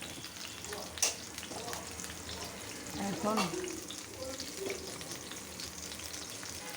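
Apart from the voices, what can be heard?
eggplant slices frying in oil in a pan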